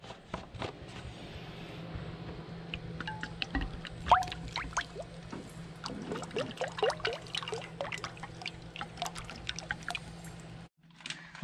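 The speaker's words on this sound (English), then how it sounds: "let's put some oil in the pan" Cooking oil poured into a frying pan at an outdoor camper setup, ready for frying crappie and bluegill panfish; a close, steady trickling pour with small crackles over a low hum, stopping abruptly near the end.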